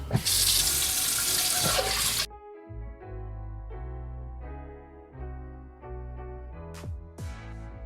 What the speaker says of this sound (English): you do want to wash it with warm water first and some soap as well